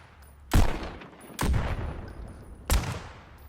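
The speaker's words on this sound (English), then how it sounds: "the one that sounds like it's a silenced pistol, but like a really high caliber silenced pistol" Three heavy, crisp gunshots from a high-caliber silenced pistol in the VR shooter game Pistol Whip, each a sharp loud crack with a short decaying tail, spaced roughly a second apart.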